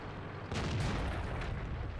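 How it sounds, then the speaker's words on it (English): An artillery shell lands in World of Tanks with a dull, muffled boom and rumble that swells then fades over about two seconds, sitting over continuous game background noise. "And there's an artillery shell."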